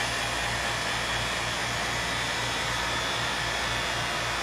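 A vacuum pump drones steadily on and on, an even, loud whooshing hum with a faint low buzz beneath, unchanging throughout and with no voices.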